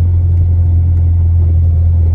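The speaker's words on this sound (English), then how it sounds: "the engine is loud is because the cat, we cut the cat off" A 1992–1995 Honda Civic engine with its catalytic converter cut off, running loud inside the car with the air conditioning on, a heavy, steady low drone and rumble at constant volume.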